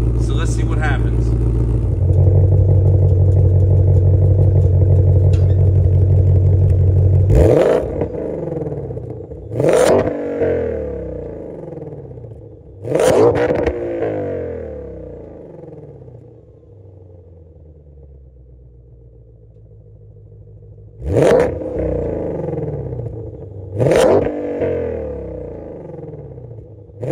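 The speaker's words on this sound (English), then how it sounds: "I'm gonna rev it up" A Shelby GT500 engine idles with a loud, deep, steady rumble for several seconds, then revs in five sharp bursts, each one falling back quickly with quieter gaps between.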